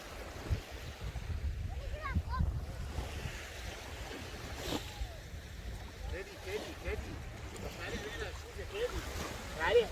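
Sea waves wash onto the beach at Maamoura, a steady broad surf roar with some wind buffeting the microphone, while people talk over it throughout.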